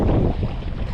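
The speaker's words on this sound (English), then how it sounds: "It is windy" Heavy wind roars against the microphone during a paddling trip toward Horseshoe Bend, a loud, dense rush with a slight dip midway, no voices.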